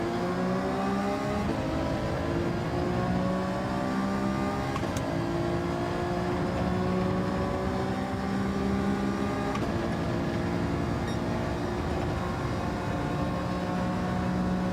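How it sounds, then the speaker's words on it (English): Racing car engine in a sim racing game, holding high steady revs with harmonic whine bands and brief repeated dips as it bounces off the rev limiter, loud and continuous with no talk. "Keep hitting that rev limiter"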